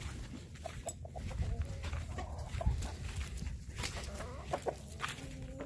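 Chickens cluck and murmur inside a coop, several birds producing scattered short calls at moderate distance, with a low background rustle and no talking.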